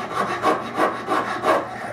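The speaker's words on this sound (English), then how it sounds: "a rasp and round it over until this comes to a sharp edge here on the bottom" A hand rasp works over a wooden glue block for a cherry Chippendale handkerchief table, rounding its edge in four steady back-and-forth rubbing strokes, close and clear with no talk.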